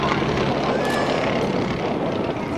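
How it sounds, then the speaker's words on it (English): An aerobatic airplane's propeller engine drones steadily and loudly through a slow upside-down roll at the NAS Oceana airshow, a continuous rough roar with a commentator talking over it. "He's going to roll it upside down. Listen to the engine."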